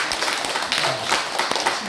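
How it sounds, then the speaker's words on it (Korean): Church congregation applauding two members honored for perfect attendance, a scattered, moderately loud patter of clapping in a worship hall with faint voices mixed in. "박수 쳐주세요"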